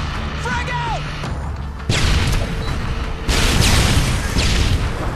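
Frag grenade explosion in Modern Warfare 2 during a Search and Destroy match on the Trailer Park map, a sudden loud crashing boom followed by a second blast and rumbling debris amid game noise.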